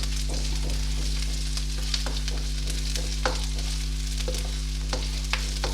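Chopped green chilies sizzle steadily in a hot pan for chicken pasta, a continuous close frying hiss broken by a few faint stirring scrapes.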